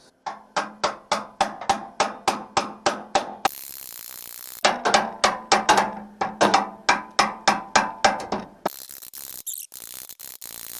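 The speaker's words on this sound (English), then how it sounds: "So we'll get in there and break that little spot weld." Sharp, evenly spaced metallic strikes ring out close and loud as a tool breaks a car's spot weld, in two long rhythmic runs broken by bursts of hissing noise.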